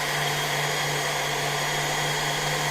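A hair dryer powered through a 1500 W 12/220 V inverter runs steadily with a constant whirring hum and airy hiss, close and loud, with no change in pitch throughout.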